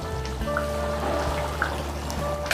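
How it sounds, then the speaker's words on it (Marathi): Tamarind pulp goes into a pot of simmering Ghati-style mutton curry, giving a soft trickling and dripping of liquid over a couple of seconds, close up and without talk. "2 चमचे चिंचेचा कोळ घेतलेला आहे तो घालून घेते."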